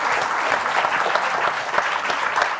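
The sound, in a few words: audience applause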